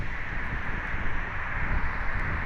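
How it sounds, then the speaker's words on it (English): Steady outdoor wind buffeting a microphone, a continuous low roaring rumble with a constant hiss, close and fairly loud throughout, no talking. "Wind."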